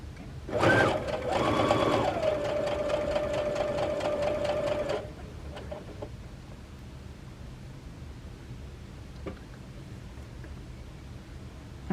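A sewing machine back stitches welt fabric on a stretchy Christmas stocking, a loud rapid mechanical stitching run that lasts about four seconds and then stops. Quiet room noise and a few faint clicks follow.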